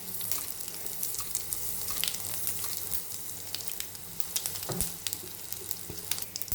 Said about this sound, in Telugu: 2 పచ్చిమిరపకాయలు, కొంచెం కరివేపాకు, దీంట్లోకి కొంచెం ఇంగు వేసుకున్నాం.